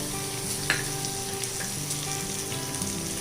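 Spices and turmeric frying in a pan over a low flame, a steady soft sizzle with a few light stirring clicks, close and alone with no talk.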